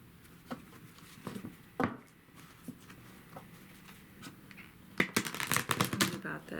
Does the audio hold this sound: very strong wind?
no